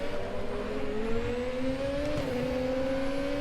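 A race car's 2.2-litre turbocharged V6 engine in a RaceRoom Racing Experience video game drones steadily, its pitch climbing smoothly through the gears with a brief dip before rising again.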